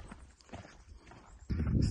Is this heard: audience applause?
no